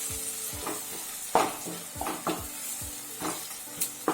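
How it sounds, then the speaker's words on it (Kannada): Tomatoes with a pinch of salt sizzle in hot oil for an egg curry, and a spoon stirs and scrapes the pan at a regular pace. The steady frying hiss carries close, irregular stirring knocks and no talking. "ಟೊಮೆಟೊ ಎಲ್ಲ ಸ್ಮೂತ್ ಆಗೋವರೆಗೆ ಫ್ರೈ ಮಾಡಬೇಕು."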